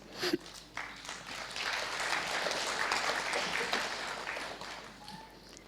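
Audience applause filling a hall at a Tamil literary speech during a Kamban festival in London, a sustained wash of many hands clapping that swells quickly, holds steady and slowly tapers, with no talk over it.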